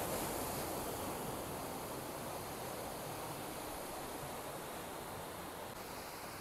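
Sea waves at high tide on Mandarmoni beach, a steady, dense roar of surf washing in without a break, loud and close, with no one talking.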